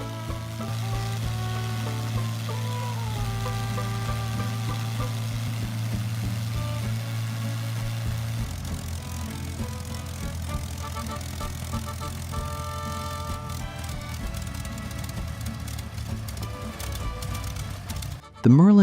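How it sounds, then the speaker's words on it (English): A Rolls-Royce Merlin 27-liter liquid-cooled V12 aircraft engine idles on a test stand, giving a deep, continuous low drone with a crackling texture on top that shifts in pitch partway through. "Once ignition begins, all 12 pistons of the 27-liter engine fall into motion without any harshness."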